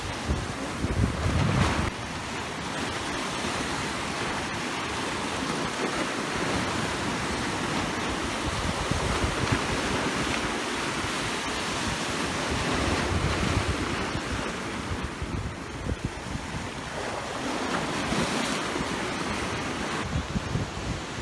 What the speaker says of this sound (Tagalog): Guys, ang ganda i-enjoy nung alon mo.